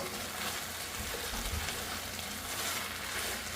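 Beef browns in a pot for a homemade stew with a steady, even sizzle and frying hiss. It sounds fairly quiet and close, with no talking.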